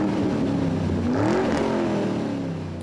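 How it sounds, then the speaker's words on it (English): A 2005 Corvette fitted with long tube headers, high flow cats, an X pipe and MagnaFlow exhaust rumbles deeply, revving up once in a rising pull before settling back to a heavy, close drone. "I kind of like the freight trainy rumble of the MagnaFlows."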